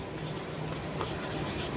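Marker or chalk writing steadily on a board during a Class 12 physics lecture on refraction of light, a continuous scratchy stroke sound close by with no talking.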